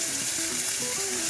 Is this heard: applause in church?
no